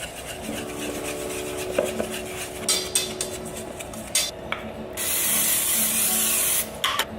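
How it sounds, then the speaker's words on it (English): A steady hissing spray of cooking oil over the top of a dish runs for a couple of seconds near the end, after some clinking and rubbing of kitchen utensils. "And you spray the top with oil as well."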